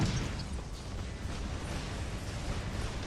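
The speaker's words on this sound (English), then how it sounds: "that's a lot of explosions going on around me" Explosions go off around a robot in the War Robots video game, a dense, continuous rumble of blasts and mechanical noise that stays loud throughout with no pauses.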